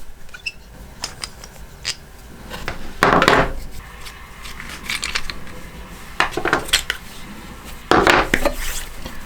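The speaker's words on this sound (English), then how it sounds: "I'm just gonna start pulling bolts off here" Bolts loosened and pulled from an aluminum Fourth Arrow 3.0 shoulder mount and Talon base, scattered close metallic clicks, taps and scrapes with a couple of louder rattling clanks, no talk.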